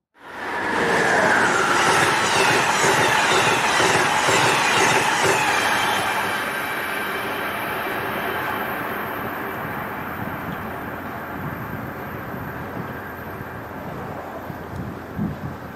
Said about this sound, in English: That was Amtrak Northeast Regional train number 147, sneaking up at 1:43 p.m., going from Springfield, Massachusetts to Roanoke, Virginia